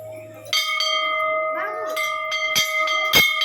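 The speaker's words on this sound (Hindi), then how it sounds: "जब भी मंदिरों में घंटियाँ बजती हैं मन को इतना सुकून मिलता है" Temple bells at Gorakhnath temple in Gorakhpur ring out in several sharp metallic strikes, their bright tones overlapping and sustaining under a steady background hum, with two louder clangs near the end.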